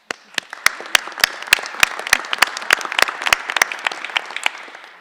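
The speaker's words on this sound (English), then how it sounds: "I want to give it a round of applause to the House and the leadership in the House" A small group claps steadily in a room during a legislative event on combating human trafficking, with sharp individual hand claps at first that thicken into brief applause and then thin out.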